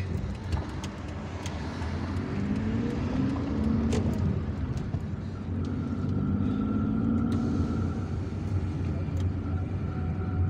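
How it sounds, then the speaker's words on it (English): Weekday city traffic in Algiers: steady, moderately distant rumble of cars and engines with occasional passing vehicles, no voices. "There is permanent traffic here on an ordinary weekday"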